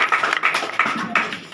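Audience applause in a Hindi business gathering, a short burst of several sharp claps and taps that come in uneven bunches and fade quickly, moderately loud and close.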